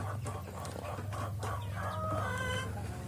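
A flock of KUB chickens on a farm cluck and murmur softly in a continuous, moderately close chorus, with a few sharper calls and a longer drawn-out note near the end over a steady low background hum.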